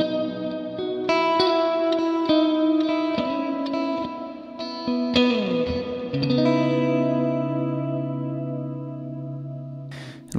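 An electric guitar runs through a Strymon Big Sky reverb pedal on an ambient setting with decay up, tone turned down and light modulation, plucked notes and chords blooming into long washy tails, close and alone with no speech.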